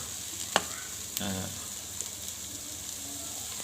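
Pre-boiled bitter gourd frying in a rice cooker pot. A soft, low sizzle runs throughout, broken by a few sharp utensil taps and a short scraping stir.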